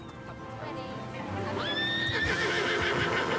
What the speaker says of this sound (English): Turning up for a picnic on a horse?